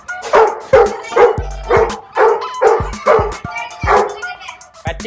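Dogs on a terrace bark repeatedly in a fast, uneven series of loud, close woofs and yips, about ten barks with brief gaps and a low grunt in between.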